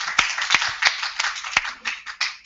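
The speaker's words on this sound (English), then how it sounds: "Let's give a big round of applause for." A few people clap, sparse and uneven rather than a full crowd, with separate sharp claps scattered over a couple of seconds.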